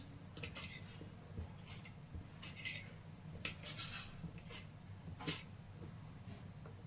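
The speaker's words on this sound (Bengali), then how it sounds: "বড় বড় করেই সবজিগুলো কাটছি" Vegetables being cut into large chunks with a knife, giving faint, scattered taps and clicks on a board at an irregular pace, with a low hum underneath.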